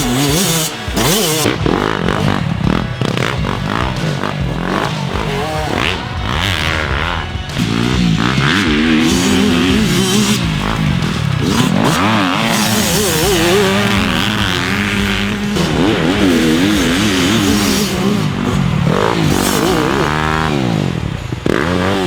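2020 Yamaha off-road motorcycles, a YZ125X two-stroke and a YZ250FX four-stroke, ride past. Their engines rev loudly and rise and fall without a break, with sharp throttle bursts throughout.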